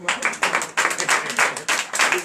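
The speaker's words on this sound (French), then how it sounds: "je vous demande encore d'applaudir très fort" A church congregation claps in bursts of applause, swelling and fading several times over a couple of seconds.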